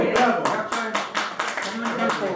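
Applause from an audience at an expert panel event, a burst of clapping hands lasting a couple of seconds with voices mixed in.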